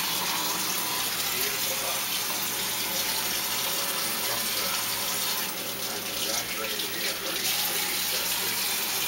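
Tap water runs steadily into a kitchen sink while raw pork chops are rinsed, a loud continuous splashing hiss that holds for the whole stretch with a brief change in flow partway through, and no voices.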